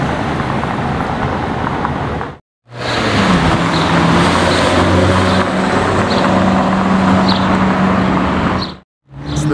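Porsche 991.2 GT3 on a road, a loud continuous engine roar passing by with a rising and falling tone, heavy wind rumble throughout and two brief dropouts.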